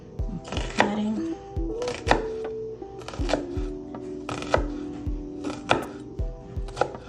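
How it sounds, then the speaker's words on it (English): Knife slicing through food on a cutting board: repeated crisp chops and taps in an uneven rhythm, close and clear, with a faint tonal hum underneath. "I'm just gonna go ahead and keep cutting."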